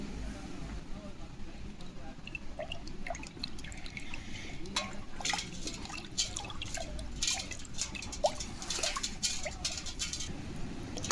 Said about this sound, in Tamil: மஞ்சள் தூள் போட்டு கலக்கி அதில் மிளகாயை நல்லா க்ளீன் பண்ணி எடுக்கலாம்